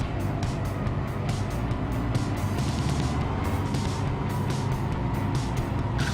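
Race cars roar around the oval track at New Hampshire during an SLM race, a steady, loud engine drone with repeated passing surges throughout.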